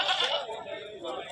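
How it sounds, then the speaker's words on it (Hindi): A milk goat bleats at a livestock market, a wavering nasal cry mixed with crowd chatter and voices talking nearby. "दूध की बकरी है"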